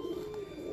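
A single pigeon giving one soft, sustained coo nearby, faint and brief with no talk over it.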